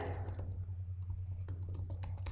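Keys tapped on a computer keyboard in an irregular string of quiet clicks, sitting over a steady low electrical hum with no voice.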